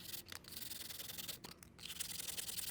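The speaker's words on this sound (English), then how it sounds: "And so we'll just sand a little bit and then we'll check our fit." Hand sanding with 220-grit sandpaper wrapped around a felt tip pen as a sanding stick, fitting an MK6 super pin part: a steady, close, soft rasping rub that runs continuously with brief pauses, no talking.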